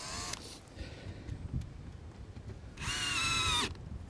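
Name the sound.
power drill driving fastener into metal roof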